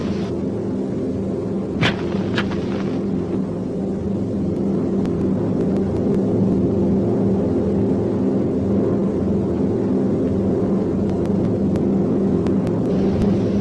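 A World War II B-17 Flying Fortress bomber on its landing approach with the landing gear down, its piston engines making a steady, loud, continuous drone with a few faint clicks.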